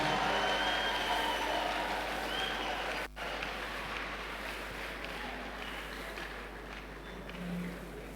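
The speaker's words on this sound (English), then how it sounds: "Please a round of applause as he comes forward to our address." Applause at the University of Jos 31st and 32nd combined convocation as the Vice Chancellor comes forward, a steady wash of clapping from a large hall audience, fairly distant and even, with a brief dip partway through.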